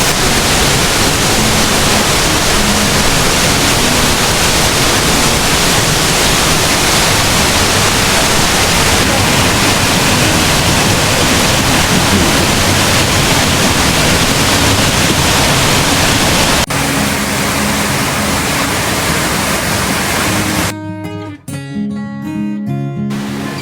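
A waterfall at Plitvice Lakes National Park, Croatia, roars loud and steady from very close, a dense unbroken rush of falling water that drops off abruptly near the end.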